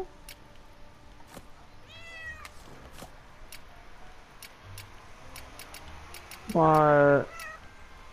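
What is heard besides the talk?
cat meowing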